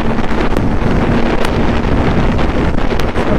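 Strong wind rushes and buffets steadily past a rider going fast on a Suzuki GSR 600 naked motorcycle, a loud, constant roar that swamps everything else with no talking.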